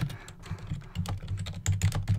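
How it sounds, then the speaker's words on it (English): Rapid, uneven clatter of keys on a computer keyboard, typed close and fairly loud in irregular bursts with no talking. "Hold on, I'm typing with real quick."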